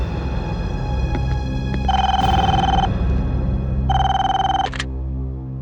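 A telephone rings indoors while a team tries to reach Daya: two long electronic ring bursts with a pause between them over a low background hum.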